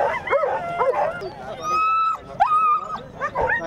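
Excited sled dogs bark and yip in quick bursts with high whines between, close by, while a person talks over them.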